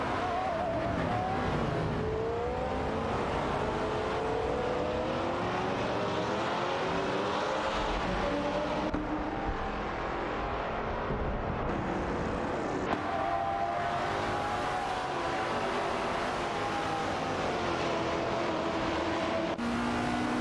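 Race cars in a sim racing game, a continuous loud engine roar with rising and falling pitch sweeps as several cars accelerate and shift through gears, steady throughout with no voices.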